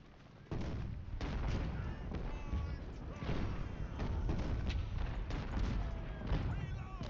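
Artillery fire and musketry in the Civil War strategy game Ultimate General: Civil War, a dense ongoing rumble of cannon booms and crackling volleys that starts abruptly and stays loud throughout.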